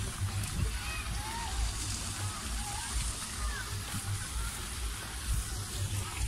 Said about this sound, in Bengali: একটা পানির একটা ঝর্ণা।